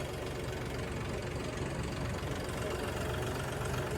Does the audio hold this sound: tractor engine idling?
yes